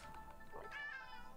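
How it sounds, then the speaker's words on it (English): A cat meows once, a short rising-and-falling call heard close by over a low background drone and faint game-like tones. "Oh my gosh, such a noisy kitty."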